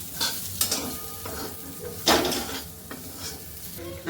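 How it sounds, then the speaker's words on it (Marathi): Cluster beans (gavar) are stir-fried in a pan, a quiet sizzle broken by scraping strokes of a spatula and a light clink of metal, with no talking. "परतून घ्यायची आपल्याला वरती छोटे छोटे डाग येतो आपल्याला परतून घ्यायचे जास्त करपवून घ्यायचं नाही आपल्याला"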